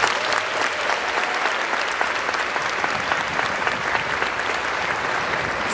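An audience claps in a sustained, dense round of applause, loud and close, with no speech over it.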